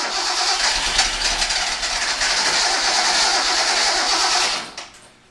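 Datsun 260Z engine cranking over and over with uneven, weak firing, a loud continuous churning starter-and-engine drone that suddenly cuts off near the end.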